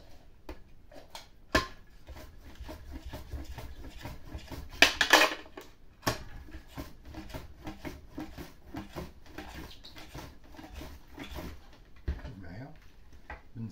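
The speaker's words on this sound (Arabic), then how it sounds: "هنا بالنسبة للخيار ديالي نقطع الخيار ديالي" A knife chopping cucumber on a cutting board, a series of sharp irregular clicks and taps with a few louder clatters, while someone talks quietly alongside.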